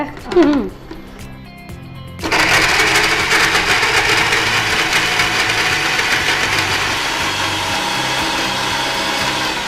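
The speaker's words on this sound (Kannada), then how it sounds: "ಈಗ ನಾವು ಗ್ರೈಂಡ್ ಮಾಡಿ ಆಯಿತು" A mixer grinder whirs loudly and steadily as it grinds an oats kheer mixture, starting abruptly after a brief quieter stretch with a voice, then running continuously up close.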